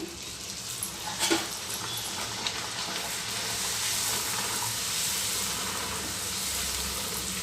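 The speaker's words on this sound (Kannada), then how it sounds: "ಬಿಸಿ ಬಿಸಿ ಎಣ್ಣೆ ಹಾಕಿದ್ರೆ ಚೆನ್ನಾಗಿ ಉಬ್ಬುತ್ತೆ" Puri made of wheat flour dough frying in hot oil, a steady close sizzle and bubbling hiss with a brief louder splash near the start, no talking.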